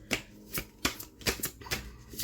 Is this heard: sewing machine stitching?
no